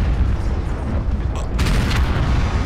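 A heavy mech weapon fires in MechWarrior Online from an Ebon Jaguar C carrying dual LBX 10 autocannons and quad SRM 6 launchers. A sharp boom cuts through a dense rumble of battle noise, and an excited voice is heard over the fighting.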